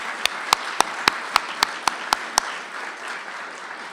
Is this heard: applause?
yes